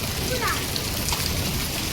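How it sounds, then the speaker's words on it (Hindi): Dense, steady pattering of hail striking surfaces nearby during a storm with strong wind and heavy rain, a continuous hiss with scattered sharper hits throughout. "कितने सारे ओले गिर रहे हैं, बर्फ के ओले गिर रहे हैं"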